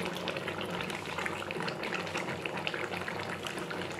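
Boal fish curry simmering in a pot with steady, close bubbling and gurgling liquid, dense and continuous without any voices.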